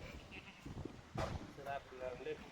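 Kathiawari goats from the Bhavnagar forest region bleat a few times, faint and somewhat distant, with people talking over them.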